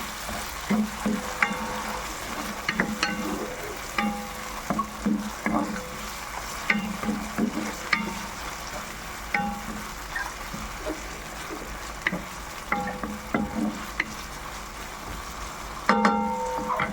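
Seasoned fish being stirred in a frying pan, a steady sizzle throughout with repeated scraping and clattering strokes of a utensil, close and fairly loud, no voices.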